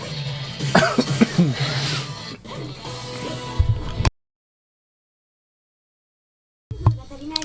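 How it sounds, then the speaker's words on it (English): Several hoarse coughs and throat-clearing sounds close to the mic, followed by a sudden silence and then another brief cough. "Sorry for the coughs earlier."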